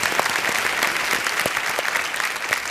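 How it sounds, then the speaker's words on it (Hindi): Studio audience on a Hindi game show bursts into steady applause welcoming a contestant, dense clapping sustained and fairly loud throughout with no talk over it. "तालियों के साथ इनका स्वागत।"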